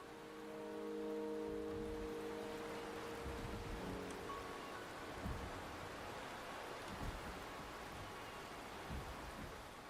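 Steady rain hisses across the scene in Journey to Mt. Firmament, a soft even wash under low rumbling tones that fade after a few seconds.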